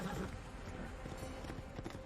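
The demon horse from Sleepy Hollow galloping, a quick series of muffled hoofbeats in steady rhythm, fairly faint beneath a soft background wash.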